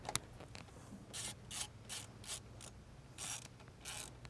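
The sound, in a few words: ratchet bolting M8 bolt on Audi turbocharger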